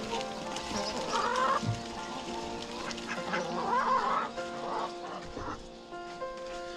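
A flock of ducks quacking and chattering close by, mixed with clucking fowl and geese, a busy continuous farmyard din.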